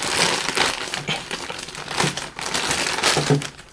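Blunt scissors hack through the plastic packaging of convention merchandise, making loud, close crinkling and crunching in uneven bursts as the wrapping is cut and crumpled.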